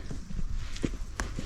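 Horses walk along a woodland trail, giving a few soft clip-clopping hoof falls against outdoor background noise.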